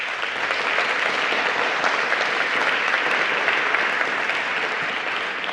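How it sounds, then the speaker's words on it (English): Audience applause after an announcement at a Bloomberg Philanthropies public health awards event, a dense, steady wash of clapping from a large crowd that holds at an even, loud level throughout. "A nice round of applause for them."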